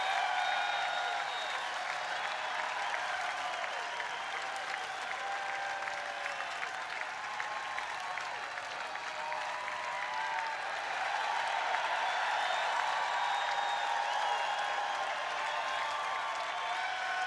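A live concert crowd applauds for a performance, a steady, dense wash of clapping and cheering that holds evenly throughout, moderately loud and continuous.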